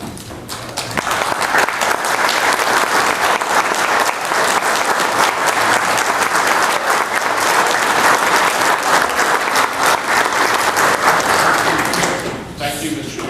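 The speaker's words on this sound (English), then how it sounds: "I would at least give you a round of applause for all your" A county commission meeting audience applauds retiring commissioners, loud steady clapping from a room full of people lasting over ten seconds before dropping off abruptly into a voice.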